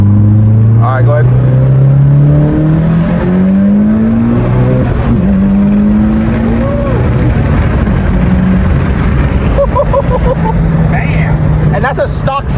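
A tuned Mitsubishi Evo with a stock-frame 64 mm turbo pulls hard under boost, the engine note climbing steadily through the gears, loud and close from inside the car, with voices talking over it.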